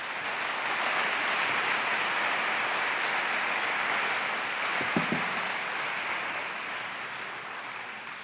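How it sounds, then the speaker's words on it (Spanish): A church congregation applauds: dense, sustained clapping from many people fills the room at a steady level for several seconds, with a brief louder clack partway through and no voices. "Le damos otro aplauso al Señor."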